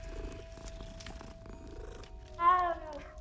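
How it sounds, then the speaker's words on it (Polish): A cat in the video game Hogwarts Legacy purrs softly while being petted, with a steady low hum under quiet game ambience. A brief brighter, meow-like chirp rises near the end. "O, kotek! Oczywiście trzeba pogłaskać."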